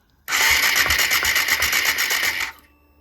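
A Suzuki GSX-S125 motorbike engine that won't start cranks on the starter for about two seconds, giving a close, loud, fast whirring chatter of rapid even pulses before it cuts off without catching.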